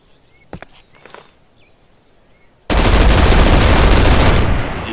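Destiny 2 weapon firing in Garry's Mod, heard as a few faint sharp clicks and shots followed by a sudden loud, dense burst of continuous gunfire that roars for about two seconds before fading slightly.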